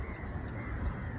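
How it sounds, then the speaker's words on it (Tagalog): A flock of crows in Malaysia gives a brief burst of cawing over a steady, noisy outdoor background, lasting barely more than a second. "Sa Malaysia to, daming uwak."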